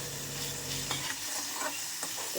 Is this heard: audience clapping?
no